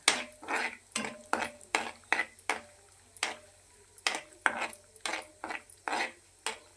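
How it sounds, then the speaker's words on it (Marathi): Cashews and dry fruits roasting in hot ghee, stirred with a metal spoon that scrapes and clinks against the pan in a steady run of sharp, close strikes, with no talking. "हे आपल्याला तुपावर चांगल्या रीतीने भाजून घ्यायचे"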